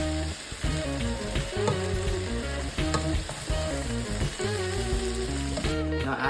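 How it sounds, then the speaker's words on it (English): Eggplant curry stirred in a pan while it fries, a steady dense sizzle with soft scraping strokes running throughout, fairly loud and close, with no voices. "And then we give it a stir."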